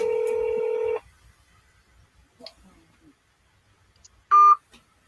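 A phone makes a burst of loud dual-tone dialing sounds lasting about a second, then near silence with faint rustles, and one more short, loud tone near the end.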